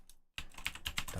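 Brief burst of quick, close clicking keystrokes on a computer keyboard, coming right after a split second of silence.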